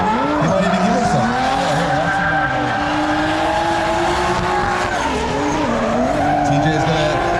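A drift car's engine wails and its tires squeal continuously and loudly as it leaves the circuit at a drifting event, while an announcer talks over the noise.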